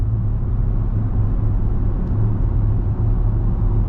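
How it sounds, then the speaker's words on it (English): A widebody Dodge Charger Scat Pack with an automatic gearbox hums as a low, steady engine drone from inside the cabin, a muffled rumble with no distinct shift or rev. "So the car downshift for you."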